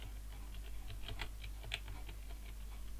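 Typing on a computer keyboard, light, quiet key clicks in a quick irregular patter over a low steady hum, alone with no voices.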